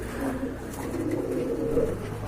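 A pair of active pigeons, a male and a female, coo in a soft continuous low murmur close by, with no talk over it.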